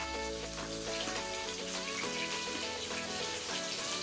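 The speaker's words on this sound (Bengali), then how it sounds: "সর্ষে, পাঁচফোড়ন সোমবার দিয়ে কাতলা মাছটা হালকা করে ভেজে নিচ্ছি।" Catla fish frying lightly in oil with mustard seeds and panch phoron, a steady close crackling sizzle running throughout under a strong harmonic hum.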